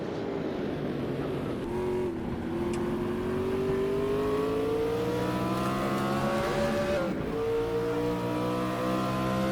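A Ford Mustang IMSA GTO race car in a racing game at the Salzburgring, its loud V8 engine droning and climbing steadily through the gears, with a brief lift around the shift, heard continuously without speech.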